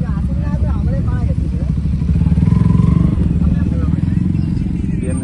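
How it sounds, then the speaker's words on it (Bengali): At a riders' meetup in Kolkata, a superbike engine revs for a sound check, giving a loud, close mechanical drone that swells in the middle, with people talking over it throughout. "সুপার বাইক ঢুকে আছে অলরেডি। তো দেখো সাউন্ড চেক করে দেখাচ্ছে।"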